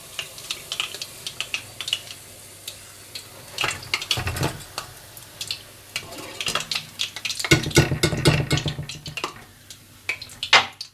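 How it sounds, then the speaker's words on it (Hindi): Fish frying in hot oil for fish biryani, a crackling sizzle with uneven bursts and knocks of a utensil against the pan, close up and growing busier toward the end, with no talk. "बाकी फिश भी इसी तरह से फ्राई कर लीजिएगा"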